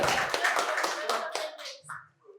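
Audience at a quiz competition in a medical college hall gives a quick burst of hand clapping that fades out within two seconds, with a faint voice at the tail.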